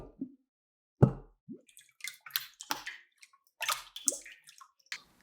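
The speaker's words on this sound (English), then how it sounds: "I took a mixing bowl, filled it with water, and then slapped different objects on it," Foley water lapping made by swishing a cup around a mixing bowl filled with water: irregular close splashes, plops and slaps in short bursts separated by silence.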